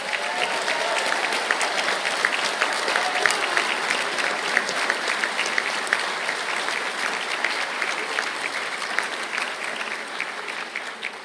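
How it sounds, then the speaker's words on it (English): A large audience applauds for graduates at a university conferring ceremony, steady, dense clapping that holds for the whole stretch with no talk over it. "I think that deserves a round of applause."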